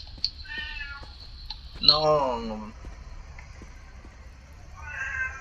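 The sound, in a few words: cat meowing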